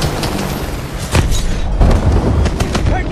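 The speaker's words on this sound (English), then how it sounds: "Taking fire from the right!" Dense gunfire and booming blasts from a Call of Duty Advanced Warfare firefight, loud and continuous with sharp cracks and heavy thuds, faint voices mixed in.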